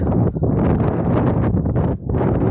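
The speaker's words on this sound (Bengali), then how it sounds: "বিশাল ঝড়। আমি ঝড়ের মাঝে আছি, তুফান, ঝড় বাতাস" Strong, roaring wind buffets the microphone continuously, a dense low rumble with gusting surges and brief dips throughout.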